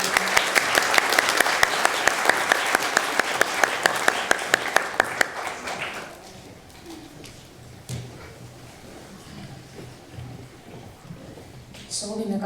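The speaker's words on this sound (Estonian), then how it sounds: "Palun suure aplausi õpetaja Liilile, kes on vankumatult Liisbeti kõrval." A concert audience at an art school spring concert applauds a teacher: dense, loud clapping with rhythmic beats for about six seconds, then fading to quieter room noise and scattered sounds.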